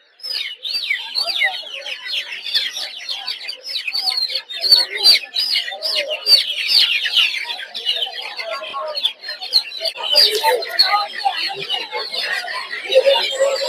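A dense, continuous chorus of high-pitched peeping from many young native chicken chicks at a poultry market, close by, with overlapping chirps throughout.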